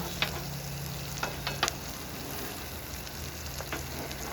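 Meatballs sizzle on a flat-top griddle while being mixed and worked in, a constant close frying hiss with a few sharp scraping clicks of a utensil scattered through.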